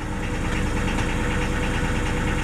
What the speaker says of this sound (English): Well, let's warm it up and